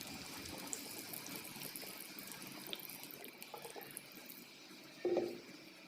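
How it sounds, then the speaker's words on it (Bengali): Jujube plums being washed in water: soft trickling and sloshing runs through, then a brief louder splash near the end, with no one speaking. "আমি বড়ইগুলোকে প্রথমে ভালো করে ধুয়ে নেব"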